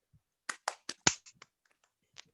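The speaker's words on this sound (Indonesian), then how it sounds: "kita bisa berikan tepuk tangan tanda seru" Sharp hand claps in a classroom game, beaten out as an exclamation-mark pattern: four quick claps close together, then a louder accented clap, a few softer taps and one last isolated clap, near and clear with no talking.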